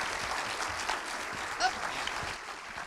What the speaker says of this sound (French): je vous demande à tous d'applaudir Michel Hazanavicius qui va me rejoindre.